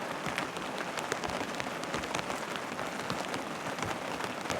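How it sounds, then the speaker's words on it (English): Heavy rain drums steadily on a car during a camping night, a dense, constant patter of close drops with no break across the whole stretch. "I don't know if you can hear that. There's so much rain."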